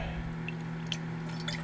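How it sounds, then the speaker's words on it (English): Water pumped by a small motor runs out of a disconnected line into a small pot, a steady trickle with faint drips and splashes over a low constant motor hum. "I disconnected the line, and I put a little pot underneath and turned on the motor, and water was coming out"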